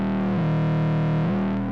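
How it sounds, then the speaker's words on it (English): Roland SE-02 analog synthesizer playing a sustained buzzy tone with distortion driven into its mixer stage, a thick harmonically rich drone that bends in pitch twice, steady and loud, alone with no talk. "So we've got some type of distortion right into the mixer stage."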